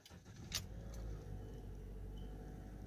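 A 2010 Toyota Corolla, one with a faulty steering angle sensor shorting its CAN network to ground, is being started: a short mechanical click and a brief cranking whir settle into a low, steady engine rumble heard from inside the car.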